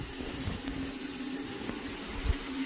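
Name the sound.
water running from a tap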